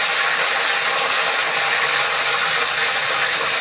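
Curry leaves and cumin seeds sizzling in hot oil in a pan for Tamil mor kuzhambu, a loud continuous crackling hiss close up with no voices.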